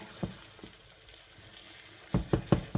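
Beaten egg for a bacon omelette fries in a pan with a faint, soft sizzle, followed near the end by several quick, louder scraping or stirring knocks.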